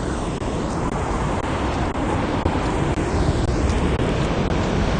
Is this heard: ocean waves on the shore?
yes